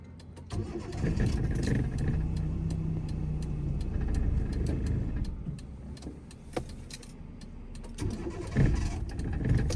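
A car is switched off and restarted during a driving lesson on a dirt surface: a low, rumbling idle with clicks and knocks, a brief starter crank, then the engine idling again, close to the microphone.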